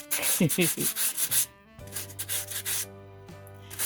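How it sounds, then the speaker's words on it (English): Dollar-store sandpaper rubbing across a Christmas card for making a stencil, a series of short, close rasping strokes in quick bursts, then a pause and a few lighter scrapes over a faint hum. "I have a piece of sandpaper right here."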